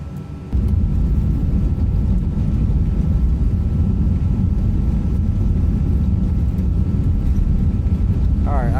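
An ATR 72-600 turboprop rolls out along the runway at idle power without reversers in Microsoft Flight Simulator, a loud, steady engine and rolling roar that starts abruptly and holds unbroken, with a voice speaking over it.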